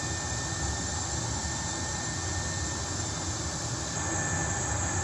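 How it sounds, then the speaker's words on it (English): A steady, loud engine roar with a constant high whine drones on without change, jet engines heard from beneath an aircraft in a flight simulator video game. "This is actually a really cool one, the under the plane one, because you can hear the engines"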